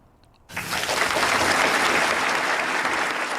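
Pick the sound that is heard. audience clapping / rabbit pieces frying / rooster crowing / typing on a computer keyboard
audience clapping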